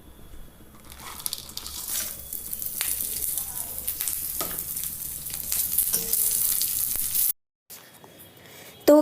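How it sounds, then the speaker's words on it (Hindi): Onion, tomato and spices frying in a kadai, giving off a continuous crackling sizzle with occasional stirring scrapes, then a brief silent gap near the end. "कढ़ाई में मैंने फ़ौरन डालकर, प्याज डालकर और फिर टमाटर और जो भी मसाला था वो सब डालकर"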